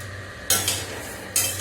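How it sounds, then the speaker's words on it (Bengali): A whole-spice mixture with cloves dry-frying in a pan is stirred, giving two sharp scraping strokes against the metal over a faint continuous sizzle, close and clear with no voices. "এই যে নেড়ে নিলাম অল্প অল্প করে"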